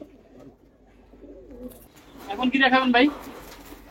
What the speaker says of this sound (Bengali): চিলা কবুতর দেখাই